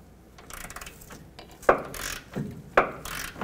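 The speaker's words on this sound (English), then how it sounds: "I'm going to use a 21mm socket on the back, on the nut side, to take the nut off" A ratchet fitted with a 21mm socket works a control arm nut on a 1997-2003 Ford F-150, giving close, clicking pawl strokes in irregular bursts with two sharp louder clacks.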